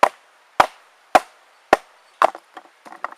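A Navy Seals knife chops into hard, dry wood. Four sharp, evenly spaced blows ring out, then come several lighter, quicker knocks, all close and with no voices.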